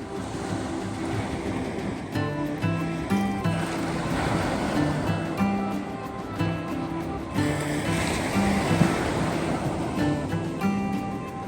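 Ocean waves wash steadily onto the shore at Gulf Shores, Alabama around sunset, a continuous broadband surf roar with gentle swells and some wind buffeting the microphone.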